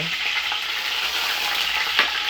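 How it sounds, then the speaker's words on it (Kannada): Mustard seeds and dried red chillies crackle and sizzle in hot oil for a ridge gourd sambar tempering, a steady close-up frying hiss with a brief louder spit near the end, no voices. "ಎಣ್ಣೆ ಸಾಸಿವೆ ಒಣಮೆಣಸಿಕಾಯಿ ಹಾಕಿ"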